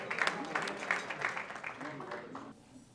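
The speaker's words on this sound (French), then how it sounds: "que je vous demande d'applaudir très fort, s'il vous plaît." Audience applause at a university awards ceremony, a scattered patter of claps for about two and a half seconds under a speaking voice, then cutting off abruptly.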